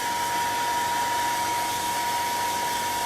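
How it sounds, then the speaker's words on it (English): Wind blows steadily and loudly across an outdoor microphone as a constant rushing roar with no breaks, and no one speaks. "And my wind's blowing."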